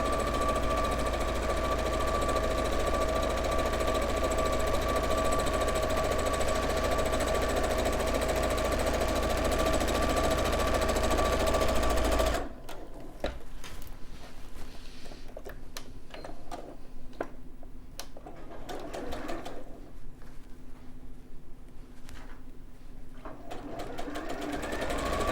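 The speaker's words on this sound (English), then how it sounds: "just sewing as a French seam all 3 sides and then top stitch" A sewing machine stitching a French seam on a simple dress, running steadily for about twelve seconds, then stopping and starting in short bursts with brief pauses and faint talk in between.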